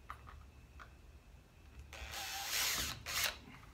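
A drill bores a small pilot hole while a storm door handle is fitted, a brief close whirring burst of under two seconds after a quiet lead-in.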